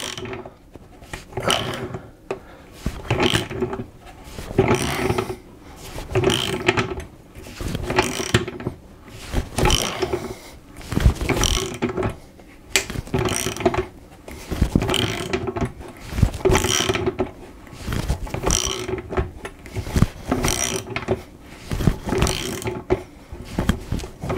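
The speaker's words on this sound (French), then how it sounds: "je serre ma clé. Et normalement, vous allez voir les dents rentrer dedans." A wrench tightening a punch through a stainless steel sink to cut a tap hole: repeated close ratcheting clicks and metallic grinding in steady bursts, loud throughout with no talk.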